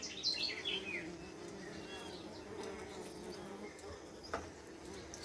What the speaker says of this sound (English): We have bees coming in here